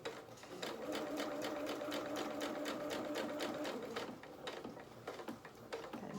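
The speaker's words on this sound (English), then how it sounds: "Don't sew over your pins if you can help it, because you can mess up your machine." Sewing machine stitching fabric in a rapid, even run of mechanical ticks for several seconds, then slowing into a few separate stitches near the end, close and fairly quiet.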